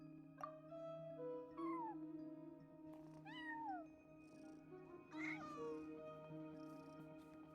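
A cat meows repeatedly in the video game Genshin Impact, several distinct rising and falling calls spread over a few seconds, close and clear over a quiet steady tonal backdrop.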